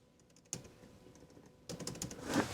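Keys on an OMOTON Bluetooth keyboard for Mac are clicked close up, soft quick taps in short clusters that grow louder and denser toward the end, with no talking.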